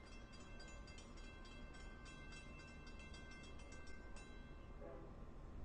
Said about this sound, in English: Here comes the train around the curve there at Jagger Road